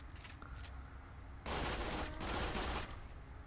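A gun firing repeatedly in Borderlands 2, two dense bursts of rapid shots after a quieter start, each lasting about a second, heard alone.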